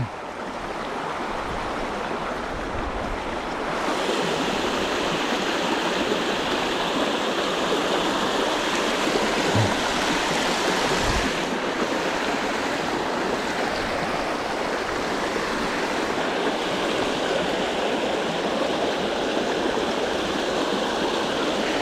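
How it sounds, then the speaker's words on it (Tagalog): Water rushes and burbles steadily over rocks, a continuous loud stream with no voices, the roar thickening slightly after the first few seconds. "Ganda ng lagas-las ng tubig."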